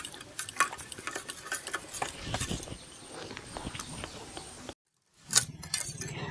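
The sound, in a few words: mixing shrimp with mustard oil and spices by hand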